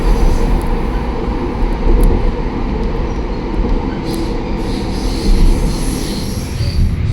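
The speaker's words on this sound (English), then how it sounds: "The train ride in the city was nice." Steady rumble of a city rail car rolling through Portland, Oregon, with continuous low wheel and track noise and an occasional faint high squeal, heard from inside the train with no voices.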